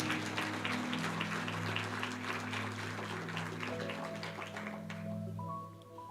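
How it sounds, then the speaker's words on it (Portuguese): A church congregation applauding steadily, a dense wash of many hands clapping that carries on for several seconds alongside sustained musical tones, then tapers off toward the end. "Você pode aplaudir o nome do Senhor nesse lugar?"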